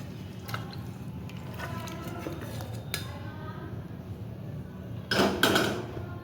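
Cooked hilsa fish curry being emptied from the pan into a serving dish: faint scattered clinks, then a short cluster of louder scraping and clattering near the end, close by in a quiet kitchen.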